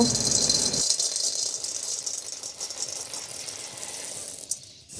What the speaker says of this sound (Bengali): এই বাদামগুলো শুকনো খোলায় ভেজে নেব